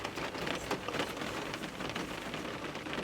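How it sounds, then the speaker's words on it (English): Rain falls steadily as a dense, even hiss with scattered drop patter, faint and continuous throughout with no voices. "Wow, it's raining now."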